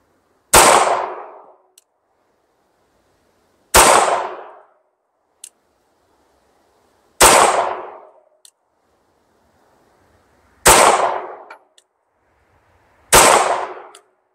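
An Anderson Kiger 9C Pro 9mm pistol fires five loud, sharp shots at a paper target outdoors. The shots come evenly about three seconds apart, each with a brief echoing decay, and small clinks follow between them.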